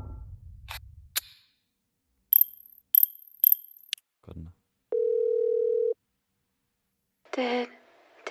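A cell phone dial tone in The Bridge Curse 2 video game: a steady, clear tone that holds for about a second, set among sparse game clicks, beeps and short electronic chirps.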